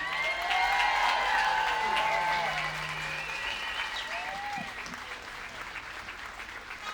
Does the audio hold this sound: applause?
yes